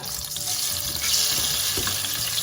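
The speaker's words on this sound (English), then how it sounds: "So I'm going to be frying the pineapple." Pineapple sizzles and crackles steadily in hot oil close by, a dense hissing spatter that never lets up.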